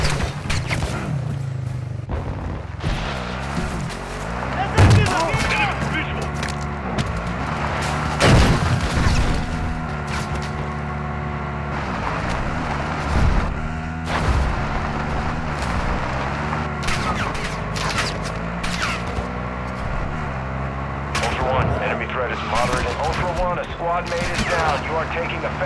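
Video game firefight with gunfire and RPG explosions: bursts of shots and booming blasts scattered through a long stretch of continuous combat noise, with radio-style voices talking over the action.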